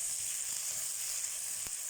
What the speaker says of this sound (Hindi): इसे फ्राई करेंगे।